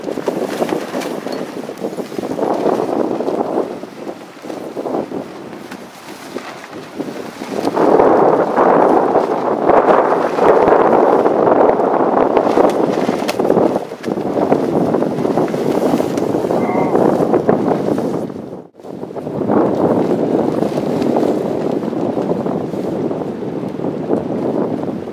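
Strong outdoor wind buffets the microphone with a loud, continuous rumbling roar, swelling in gusts and briefly dropping out once, while a Hubba Hubba HP tent is pitched outside; no one speaks.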